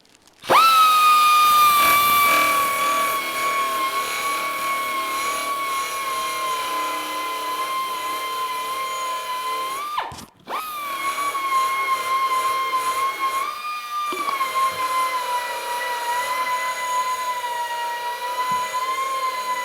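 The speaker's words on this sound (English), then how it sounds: "pretty quick, it grinds that weld down" An angle grinder grinds down a weld on a clamped steel piece, a loud steady high-pitched whine with a rough abrasive edge that runs continuously for nearly twenty seconds, dipping briefly once midway before resuming.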